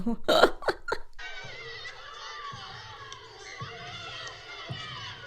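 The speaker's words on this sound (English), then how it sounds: "Screaming children and a heartbeat in the background." Children scream and shout in a loud, chaotic burst from the horror film Weapons (2025), then cut away to a quiet ambient bed where low, dull heartbeat thumps land about once a second.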